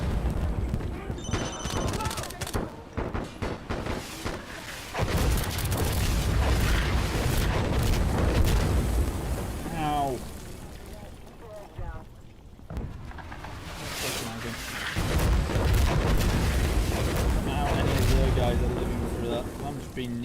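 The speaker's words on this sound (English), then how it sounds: "This is not a good sign of being in a rocket barrage." Rocket barrage explosions in the shooter game Insurgency Sandstorm: heavy booms and rumbling blasts pile up over steady gunfire, loud and close, with a player's voice talking over the chaos.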